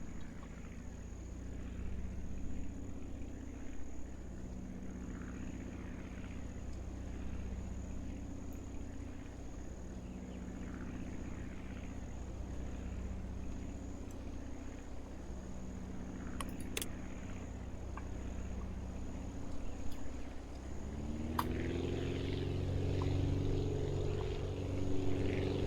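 A propeller aircraft engine in a flight game hums at a steady idle drone, then its pitch rises sharply as the throttle opens for taxiing, a continuous mechanical tone alone with no talk.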